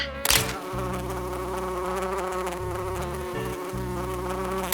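A fruit fly buzzing close by, a steady loud whining drone with a rich harmonic hum that holds continuously, with a short sharp tap near the start.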